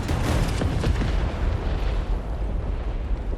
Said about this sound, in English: Oh, it was a big bomb that went off behind me.